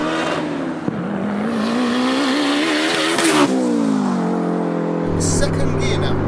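A big-turbo Toyota MR2 sleeper accelerates hard, heard loud and close from inside the car. A rising engine and turbo whine climbs, breaks at a gear change and climbs again, with a voice talking over it.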